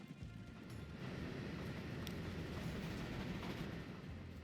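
A steam-era train in the Transport Fever 2 game rolling along the rails, a steady low rumble with faint rhythmic clatter and a few soft high clicks, continuous and even throughout, with no one talking.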